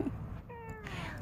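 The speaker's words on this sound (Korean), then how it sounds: "야옹 했어." A stray cat gives one clear, drawn-out meow that rises and then sinks, heard close up over a low background murmur.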